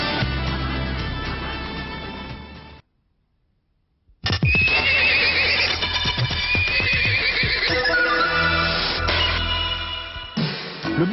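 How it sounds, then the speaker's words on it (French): A polo horse whinnies loudly and close by in a long, shaky call, breaks off into a brief silence, then lets out a second drawn-out neigh that wavers in pitch. "Le bon cheval de polo est une perle rare"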